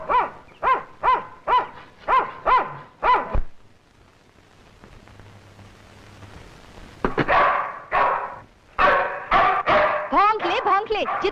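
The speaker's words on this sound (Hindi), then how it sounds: "भौंक ले, जितना जी चाहे भौंक ले।" A shut-in dog barks repeatedly indoors in a rhythmic, loud series, goes quiet for a few seconds, then resumes rapid barking close by.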